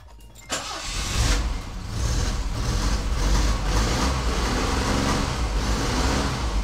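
Citroën SM engine running steadily after a 123Ignition ignition install, a close, loud continuous engine note that settles into an even idle-like drone following a brief start at the beginning, with no talk.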